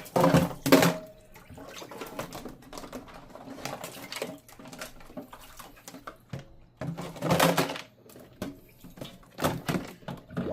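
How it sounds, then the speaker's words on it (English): Water splashes and patters in a sink while plastic containers are rinsed by hand, with uneven bursts of spray and clattering handling. "These plastic containers we gotta wash."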